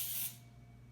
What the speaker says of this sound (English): we're gonna use this pan baking spray, and this is what's gonna help it from not sticking